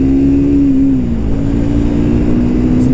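A motorcycle accelerates in third gear with a steady, droning engine note that climbs slightly, loud and close, with no talking.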